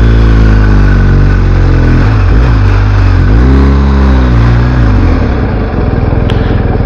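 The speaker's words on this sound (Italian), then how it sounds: "Vediamo come ci districhiamo nel traffico" A 2022 BMW R1250 GS Adventure motorcycle moving through traffic, its boxer engine droning loudly and steadily with rising and falling revs as it brakes and accelerates, heard close with wind rush and no talking.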